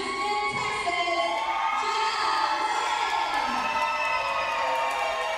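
A live women's wrestling crowd in Texas City cheers for hometown wrestler Jenna Lynn, a loud, steady roar of cheering, whoops and high shouts that fills the whole stretch without a break.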